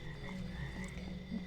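Frogs croak in the video game Mudborne, a steady layered croaking chorus with a low drone, held at an even level with no talking.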